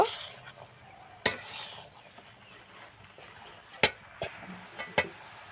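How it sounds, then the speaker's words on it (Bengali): Bottle gourd being stirred with salt in a cooking pan over gentle heat: soft scraping and a few sharp utensil knocks against the pan at irregular intervals over a faint background sizzle. "লবণ দিয়ে নেড়ে চেড়ে দিলেই হবে।"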